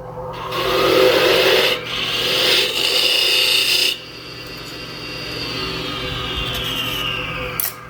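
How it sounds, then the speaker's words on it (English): A lathe tool scrapes and rasps steadily against a spinning wooden acorn blank while a one-inch tenon is turned, with a continuous motor hum and the cutting noise easing off partway through, close by. "we're just going to run through the 5 blanks and put our 1-inch tenons on them"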